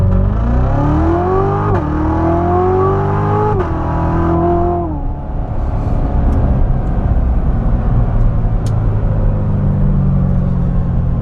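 A 2017 Corvette Z06, in Sport 1 mode, launches hard from a stop and accelerates toward 60 mph. The engine revs climb loudly through two quick gear changes, then settle into a steady, roaring rumble. No one speaks.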